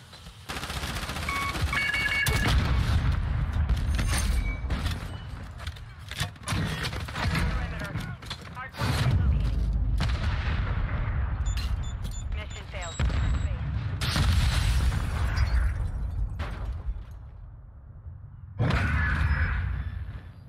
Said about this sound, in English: I was shooting the wall